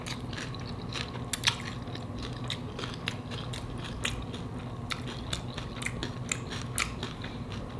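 Homemade crunchy salmon tacos are bitten and chewed close to the ear, making a steady stream of crisp crunches and clicks that keep coming at an uneven pace, with no talking.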